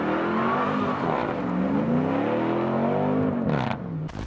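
A big American V8 engine revs hard and loud, its pitch swelling and falling in long sweeps before a sharp burst near the end, with no talk.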